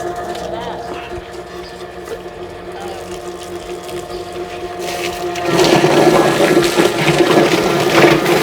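Water from a garden hose nozzle rinses a freshly butchered chicken outdoors, a steady hiss that swells louder partway through, with people talking over it.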